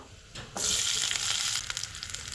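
Ginger, garlic, chillies and curry leaves dropped into hot oil for a Goan mixed vegetable stew, bursting into a loud close sizzle that hisses steadily for about a second, then settles to a lighter crackle.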